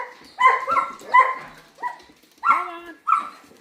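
A big dog barking inside a cage, five or six loud, close barks and yips spaced at irregular intervals, some with a whiny, rising tone, with no talking over them.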